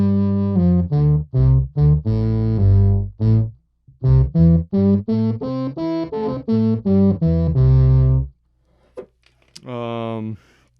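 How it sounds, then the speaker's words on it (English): Electric guitar through an octave effect pedal, a run of short choppy notes and chords with a thick doubled low end, close and loud, then a pause and one final sustained note. "The octave effect itself is very good."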